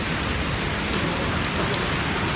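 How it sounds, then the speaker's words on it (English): Steady rain falls in New York as a thunderstorm eases off, a dense, even hiss of drops on surfaces that holds constant throughout with no voices. "It's still raining though."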